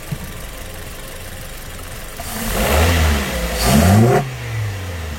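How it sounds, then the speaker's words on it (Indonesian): A car engine fitted with new multi-hole fuel injectors idles, then is blipped twice, each rev climbing and falling back before it settles to a steady idle again, loud and close. "Kita akan coba gas sedikit biar injektornya bekerja lebih maksimal lagi."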